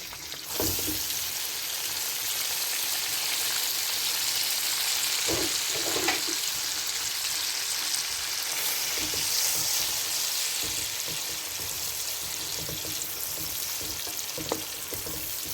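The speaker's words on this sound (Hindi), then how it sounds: "बटर हमारा मेल्ट हो गया है। अब इसमें मैं प्याज डाल दूँगी।" Onions sizzle and fry in melted butter and oil inside a cooking pot for gosht karahi, a steady close hiss running throughout with occasional stirring clatters and no voices.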